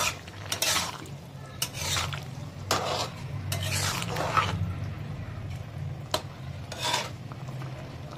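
Shrimp and stalk curry stirred from the bottom of a pan, a series of close scraping, rubbing strokes at uneven intervals over a low continuous simmer.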